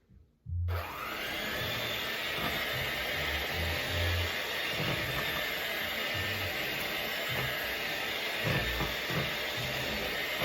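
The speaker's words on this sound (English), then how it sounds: "Hand mixer." Hand mixer whirring continuously in a home kitchen, a faint, steady motor hiss after it switches on, with soft irregular thumps and rattles as it works the flan batter.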